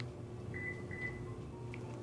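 A Lexus NX chirps faintly as it locks, giving two short, thin electronic beeps in quick succession over steady background noise, with no talking.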